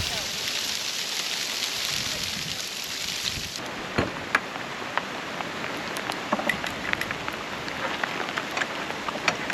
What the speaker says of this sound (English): the ice pellets have definitely started